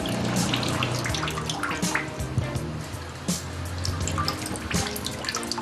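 Water drains and drips from a freshly formed handmade paper sheet held in its mould, tilted from side to side, giving close trickling with scattered irregular drips and splashes at a fairly quiet level.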